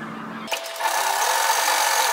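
A sewing machine stitching a straight line through fabric at one centimetre from the edge, starting with a click and then running as a steady, close, even whirring hum for a couple of seconds with no talking.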